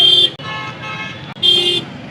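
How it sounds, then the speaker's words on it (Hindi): A vehicle horn sounds twice in road traffic, with a near, loud blast at the start and another about a second later. Steady motor and street noise fills the gap between them. "वह हॉर्न किया जा रहा।"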